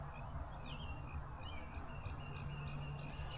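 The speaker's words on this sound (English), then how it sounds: "Oh, hitchhiker cricket." A cricket chirps in faint, steady repeated trills over a low outdoor hum, with no voices present.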